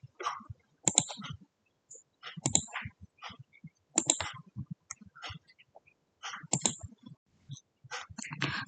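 Close, crisp clicks of computer keyboard typing come in short bursts of several keystrokes separated by pauses, with no talking over them.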